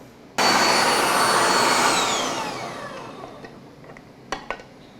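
An electric sausage stuffing machine pushes sausage meat into a casing, starting with an abrupt steady motor whir whose whine slowly drops in pitch and fades as it winds down, followed by a couple of faint clicks.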